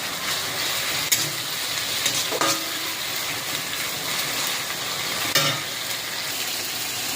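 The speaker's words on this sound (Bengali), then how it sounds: "মশলাটা আমি কষতে থাকবো" Ginger-garlic and spices sizzle and crackle steadily in a hot pan, with occasional scraping from stirring breaking through the frying noise.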